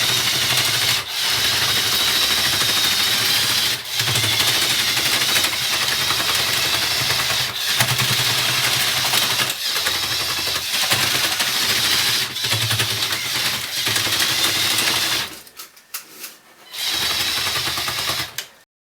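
Large RC Lego Mantsinen 90R port crane with gantry drives on tracks, a steady loud whirring motor and grinding track rub with periodic clicks, continuous for about fifteen seconds before briefly cutting out and resuming.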